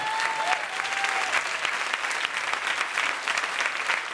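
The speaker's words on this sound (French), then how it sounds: "on peut applaudir le tigre qui va me rejoindre sur scène" Steady, full applause from a comedy show audience welcoming a volunteer onto the stage, dense continuous clapping at even loudness from start to finish, with a faint voice briefly audible early on.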